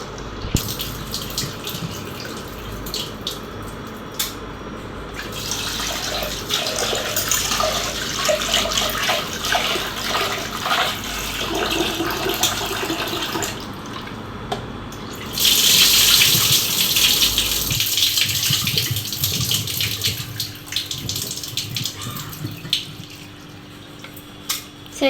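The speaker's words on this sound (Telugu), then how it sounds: "మనం తీసుకున్న పెసరపప్పుని కుక్కర్లో వేసుకొని 2 times వాష్ చేసుకోవాలి." Moong dal is washed with water inside a pressure cooker: steady running tap water and swishing, sloshing rinsing continue throughout, with a louder gushing stretch near the end.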